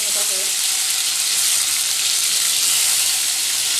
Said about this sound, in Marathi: बाकीची वांगी मी भरून इथं आपण वांग्याला फोडणी देणार आहोत।